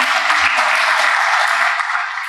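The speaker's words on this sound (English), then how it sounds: "A round of applause for Nicolas and the Toronto Global Forum" Audience applause at a forum on foreign investment in Canada, honoring Nicolas and the Toronto Global Forum: a steady, dense wash of clapping that holds loud and even for a couple of seconds with no talk over it.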